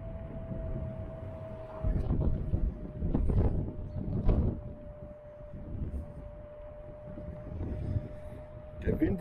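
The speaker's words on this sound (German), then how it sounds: "Der Wind ist stärker geworden." While someone rides an e-scooter into a headwind, strong wind rushes and buffets against the microphone in uneven gusts under a steady motor whine. There is also some faint background talk.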